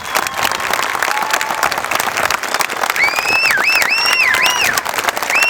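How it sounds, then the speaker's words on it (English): Sustained applause from a graduation audience honoring military graduates back from Iraq, dense steady clapping throughout with a few whistles or cheers rising near the end. "we wanted to make sure that you got a huge round of applause"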